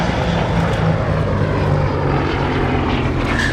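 Propeller engine of a Gloster Gladiator biplane at the Duxford Battle of Britain airshow, a loud, steady, close drone that holds for a few seconds with no one talking.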